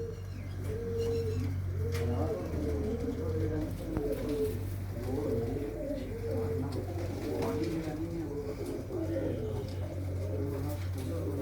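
Breeder pigeons coo in soft, repeated low burbling calls close by, several birds overlapping steadily against a constant hum.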